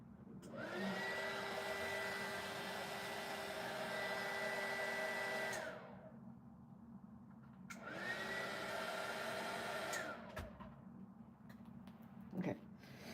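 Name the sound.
hair dryer drying fluid pen art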